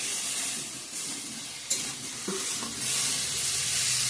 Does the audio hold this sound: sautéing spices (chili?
yes